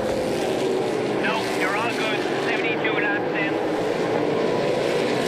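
Onboard engine of a NASCAR Pinty's Series stock car racing at Delaware Speedway, a steady loud drone with wind roar throughout, a commentator talking over it.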